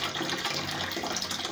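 A toilet cistern refills with water after a leak repair, giving a steady, even hiss of running water, low in level and unbroken throughout.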